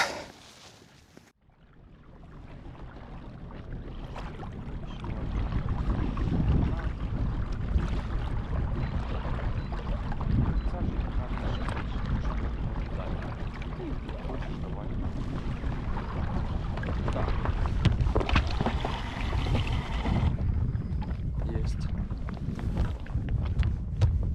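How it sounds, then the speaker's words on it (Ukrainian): Wind buffets a fishing boat on open water during pike fishing, a loud, steady rushing roar of wind noise that swells in and stays constant for over twenty seconds, with faint water sounds beneath. "намагаємося ховатися від вітру за островами, але не дуже виходить"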